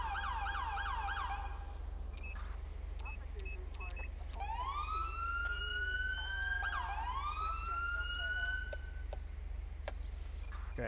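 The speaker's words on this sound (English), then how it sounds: "so here's a siren" Police siren in Grand Theft Auto V with the LSPDFR police mod, repeated sweeping wails and yelps cycling through stages over a constant low engine drone, clear and prominent with no talk.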